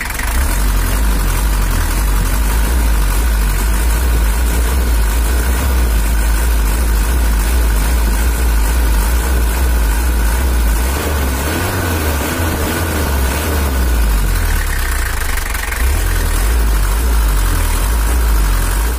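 A Toyota Hiace LH11 engine idles loudly and steadily with a deep rumbling drone and constant mechanical vibration throughout, close by, with no talking.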